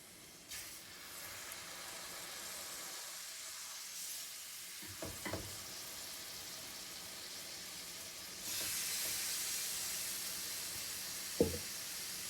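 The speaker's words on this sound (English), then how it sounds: "I'll just be adding the fish to the pan and then wait for it to cook" Fish frying in a pan gives a steady broad sizzle and hiss, which swells louder toward the end and carries a sharp clink or two of utensils.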